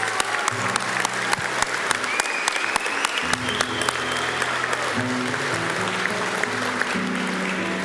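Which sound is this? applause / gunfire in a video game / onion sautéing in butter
applause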